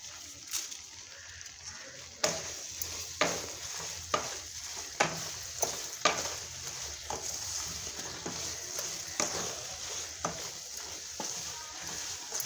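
A spice tempering sizzles steadily in a pan for an elephant foot yam dish while being stirred, with repeated scraping knocks of a spoon against the pan at a slow, regular rhythm.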